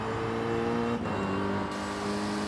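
Alpine A110 in the racing game Forza Horizon 5, its engine note running steady and loud throughout with a brief dip in pitch midway, sounding like continuous acceleration.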